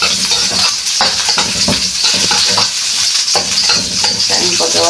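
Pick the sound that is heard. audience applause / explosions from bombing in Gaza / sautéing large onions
sautéing large onions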